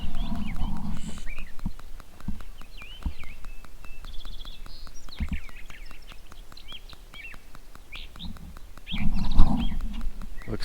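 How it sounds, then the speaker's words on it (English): At sunrise outdoors on a farm, birds chirp in scattered short calls, fairly faint, over a steady rhythmic ticking from nearby machinery and occasional low thumps. "Hearing all the birds chirping."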